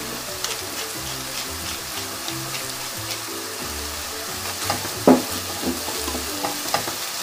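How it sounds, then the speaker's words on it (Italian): Food sizzles in a hot frying pan over a high flame while a spoon stirs it, giving steady crackling with soft scraping knocks and no voices. "Diamo un'ultima mescolata."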